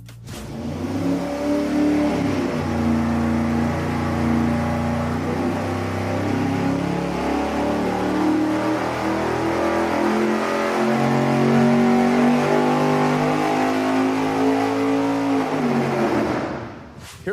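High-horsepower race engine fitted with a bellmouth on a dyno, roughly 974 horsepower peaking at 6,500 RPM, firing up and pulling a long, loud, climbing rev sweep for about fifteen seconds before cutting off abruptly, close and alone.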